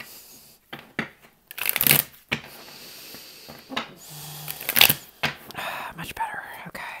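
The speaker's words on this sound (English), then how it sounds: "It's a terrible shuffle. Let's try that again." Tarot cards being shuffled in several close, crisp bursts of riffling and flicking, separated by quiet pauses, with soft handling noises between them.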